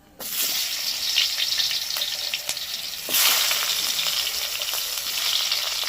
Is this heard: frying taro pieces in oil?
yes